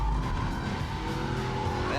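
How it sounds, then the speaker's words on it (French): A car slides under hard braking with tires squealing against a loud continuous engine and road roar, short and close in a Porsche 911 versus Audi R8 drive. "on rentre un peu sur les freins, la voiture glisse toute seule"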